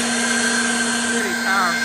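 A Yoovl cordless leaf blower runs on its lowest of three settings, giving a steady, close whine with a constant motor tone that holds for the whole moment. No one speaks over it.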